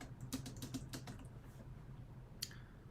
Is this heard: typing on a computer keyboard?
yes